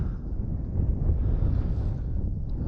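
Steady wind buffets the microphone in a low, continuous rumble while fishing on the Pechora river in spring, with no voices.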